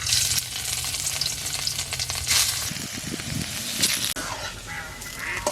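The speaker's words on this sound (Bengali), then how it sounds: "এবার এগুলো ভেজে নেব।" Squeezed pieces of ash gourd fry in ghee in a kadai, giving a loud, continuous sizzle with occasional stirring scrapes and no talking.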